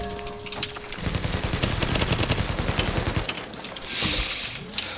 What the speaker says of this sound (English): Someone shooting through the ground?